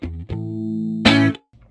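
A guitar through a Guitar Rig jazz amp jazzy chorus preset plays a few sustained, shimmering chorused notes, closing with a brighter strummed chord that rings briefly and stops.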